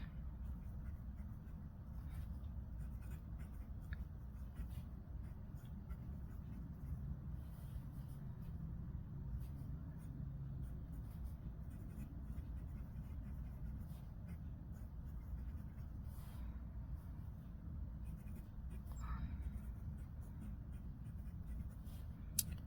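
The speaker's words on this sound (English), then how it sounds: "Do some different writing here." A fountain pen with a standard nib, without an oblique grind, writes on paper in a faint, steady scratch that runs the whole time against a low background hum, with no voices.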